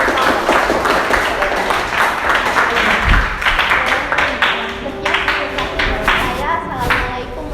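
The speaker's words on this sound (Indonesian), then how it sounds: "Kita beri aplaus untuk" Classroom applause for a student group after a chemistry experiment presentation, a dense wash of clapping with crowd noise and overlapping voices throughout.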